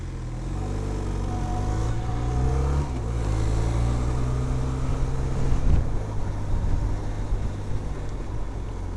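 Busy road traffic at a junction in Heidelberg, Germany, heard from a moving vehicle: a steady low engine rumble with passing cars and a bus, wind noise buffeting the microphone throughout, no talking.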